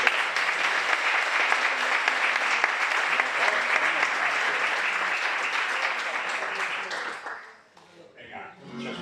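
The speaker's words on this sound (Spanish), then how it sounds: "quiero también que le demos un aplauso al guitarrista" Audience at a book presentation in a foundation hall applauding a guitarist in a sustained, even burst of clapping that fades out near the end as a voice starts speaking.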